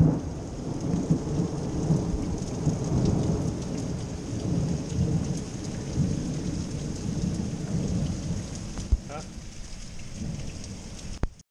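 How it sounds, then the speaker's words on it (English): Steady heavy rain pours down on a ranch at night with low rumbling thunder rolling underneath; a person briefly speaks a single word partway through. "I'm not scared of that damn thunder."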